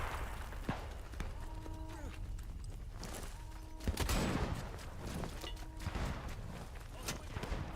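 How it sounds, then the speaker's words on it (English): Scattered gunfire and bullet impacts in the video game Atomfall, sharp separate cracks over a low ambient rumble, with a louder burst midway and repeated tonal game sounds between shots. "Oh god, bullets."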